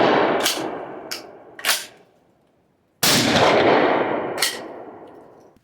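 Ermox X-Pro T shotgun fired outdoors: a loud blast with a long decaying tail, followed seconds later by a second equally loud shot that also rings out and fades, with a few sharper cracks in between.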